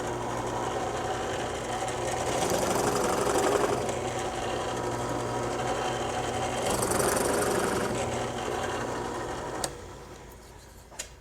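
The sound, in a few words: chamfering a drilled hole in wood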